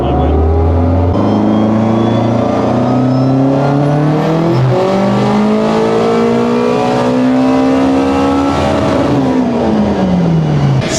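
Turbocharged Honda Type R engine revving hard on a dyno, a loud sustained pull with pitch climbing steadily through the gears, then easing off near the end.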